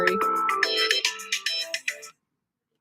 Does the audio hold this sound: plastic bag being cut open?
no